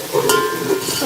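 Spices roasting in a pan for matar pulao, with a steady close sizzle and short scraping stir strokes running through the whole brief moment.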